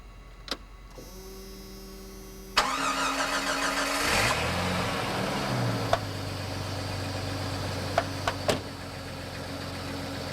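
A 1989 Jeep XJ Cherokee engine cranks and catches, then settles into a steady idle, with a few sharp clicks and knocks before and after; the fuel pump is noisy and the exhaust very quiet.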